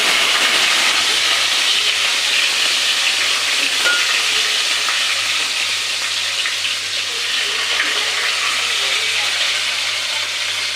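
Cumin seeds and green chillies sizzle in hot oil over a low flame, a loud, steady, close hiss of frying that runs unbroken from start to finish without any talking.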